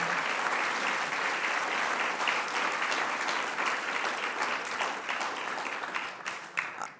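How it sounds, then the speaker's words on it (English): Sustained audience applause at a 2021 State of the City address, thanking those who worked on a local project; steady, fairly distant clapping that thins slightly toward the end. "give a big round of applause for that"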